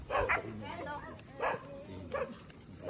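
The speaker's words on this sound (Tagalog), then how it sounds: "Pero dami aso." Several dogs bark in bursts, moderately close, in Abra, Philippines, with people talking over them throughout.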